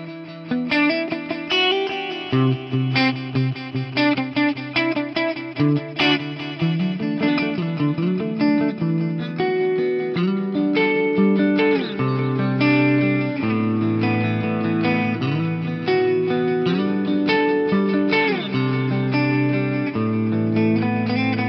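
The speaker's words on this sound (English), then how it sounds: "It's just a bunch of different delays, and it sounds like this." Korg DL8000R rack delay spreading multiple delay taps across the stereo field on a continuous, dense, effected instrumental passage with modulated chorus-like repeats, loud and sustained throughout.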